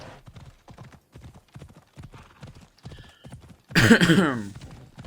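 Rhythmic hoofbeats of a horse moving at pace in Assassin's Creed Odyssey, followed by a loud, close whinny near the end.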